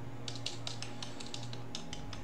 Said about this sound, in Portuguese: deixa eu digitar aqui a senha do servidor